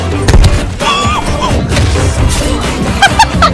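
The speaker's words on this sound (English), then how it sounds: "That's grenade." A video-game grenade goes off in one loud, booming crash near the start, followed by rumbling debris and scattered in-game noise.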